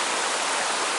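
Water rushes down the Teletskoye waterfall near Golden Lake, a loud, dense, unbroken hiss that fills the moment close up, with no pauses and no voices.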